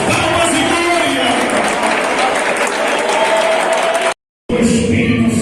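A church congregation claps loudly and continuously during a worship service, dense rhythmic clapping mixed with voices, cut by a brief silent gap before resuming.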